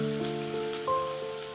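A raw plantain mixture sizzles softly in a hot pan as it is stirred, the gentle frying hiss sitting beneath a steady tonal hum.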